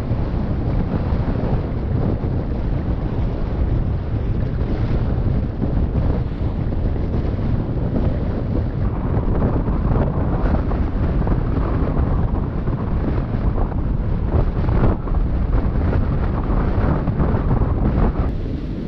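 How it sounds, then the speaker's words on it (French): Constant heavy wind of about 30 knots roaring and buffeting on a sailboat in the Atlantic, with rushing water and low rumble beneath, loud and unbroken throughout. "il y a petit 30 nœuds de vent quand même"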